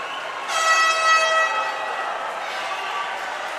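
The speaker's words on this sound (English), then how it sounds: "going to get the air horn for 50 yards to go" A loud air horn blasts once for about a second at a state swim meet, signalling 50 yards to go, a bright blaring tone rising over steady crowd noise and an announcer's voice.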